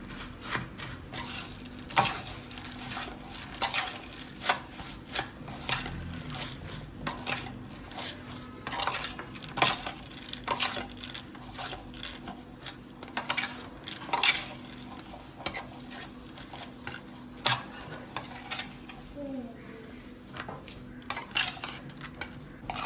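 Manchurian Chinese bhel is mixed with Schezwan chutney and soy sauce, giving repeated clattering spoon scrapes and knocks against a metal dish in an irregular rhythm, close and moderately loud, without talk.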